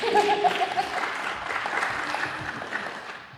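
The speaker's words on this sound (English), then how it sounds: "that deserves an applause" Applause from a San Diego Comic-Con 2025 panel audience, a moderate burst of clapping with a brief cheer at the start, fading gradually over a few seconds in a large hall.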